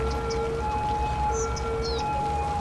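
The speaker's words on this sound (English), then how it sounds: "I hear a police car." A police car siren in the Cities Skylines city-building game sounds as steady sustained tones with occasional brief chirps and warbles, continuous and moderately loud throughout.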